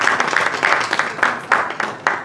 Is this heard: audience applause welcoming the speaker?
yes